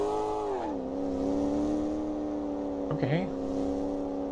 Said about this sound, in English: this thing accelerates fast